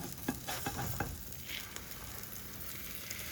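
An egg omelette fries in a pan with a faint, steady sizzle, a few soft stirring or tapping knocks early on, heard close but quiet with no voices.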